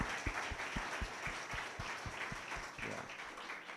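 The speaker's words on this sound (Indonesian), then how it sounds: "Beri tepuk tangan buat Tuhan Yesus" A church congregation at a Sunday service claps together in a steady, rhythmic beat, one clap roughly every quarter second, moderately loud across the room.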